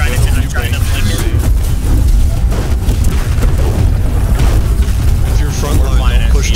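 Cannon fire during a siege battle in the New World video game, heavy booming blasts layered over a constant loud roar of battle noise, with voices talking over it throughout.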